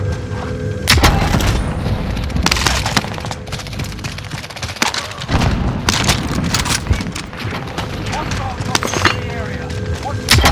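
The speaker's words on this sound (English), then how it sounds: "Allied precision airstrike incoming." Call of Duty precision airstrike explosions boom loudly and repeatedly across several seconds, mixed with gunfire crackle and a voice speaking over the barrage.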